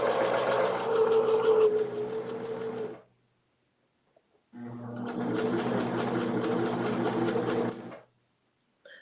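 A sewing machine winds a bobbin of thread in two sustained whirring runs, steady and close, with a pause of a couple of seconds between them.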